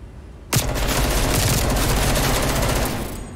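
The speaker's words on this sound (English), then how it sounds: "it looks like a grenade launcher" Sustained burst of gunfire and explosive blasts from a grenade launcher in a Call of Duty Gunfight match, starting abruptly and holding loud and dense for about three seconds before tapering off.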